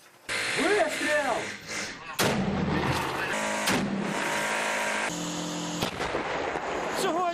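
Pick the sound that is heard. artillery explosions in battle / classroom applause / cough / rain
artillery explosions in battle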